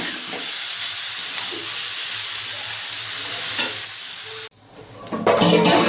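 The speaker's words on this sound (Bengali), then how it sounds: "ভাজা হয়ে গেছে, এবার তুলে নেবো। যে একটু লাল লাল হয়ে গেছে চিকেনটা।" Chicken pieces frying in hot oil while being stirred, a loud continuous sizzle with scraping stirs, briefly cut off before the crackle resumes even louder.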